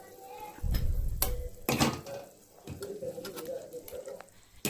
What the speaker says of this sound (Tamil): இப்போ குழம்பு கொதிக்குது.